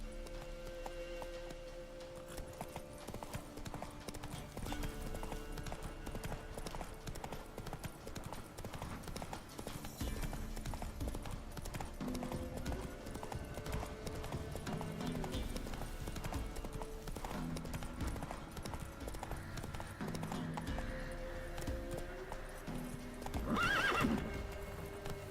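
Roach, a horse in the video game The Witcher 3, gallops with steady rhythmic hoof clip-clops alongside game music, and a whinny rises near the end.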